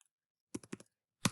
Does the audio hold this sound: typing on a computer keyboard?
yes